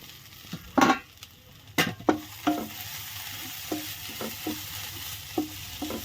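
Shallots, tomato, ginger, garlic and chilli being sautéed in a pan for a coconut prawn curry: steady sizzling frying with a series of sharp spoon scrapes and stirring knocks, loudest early then softer, no voices.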